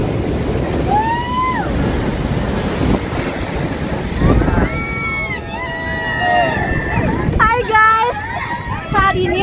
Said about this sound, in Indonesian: bonus spot deburan ombak yang menerjang karang dengan ketinggian deburannya yang bisa sampai 5 meter ke atas